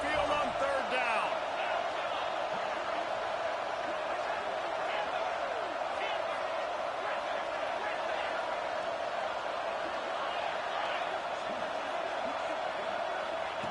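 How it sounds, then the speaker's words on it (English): The Alabama Crimson Tide stadium crowd at Saban Field keeps up a continuous, loud roar on a third down, with a broadcast commentator talking over the massed noise. "The Tide crowd rolling noise down onto Saban Field on 3rd down."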